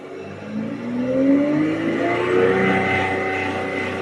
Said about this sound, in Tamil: ஆர்பிஎம் ரேஸ் பண்ணுறேன் பாருங்கள்